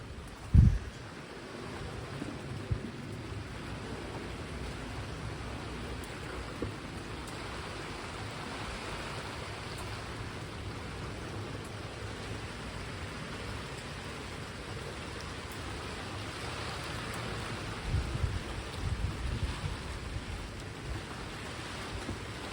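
Heavy rain driven by strong winds makes a constant, enveloping roar, opening with a single thump and swelling with louder gusty bursts near the end.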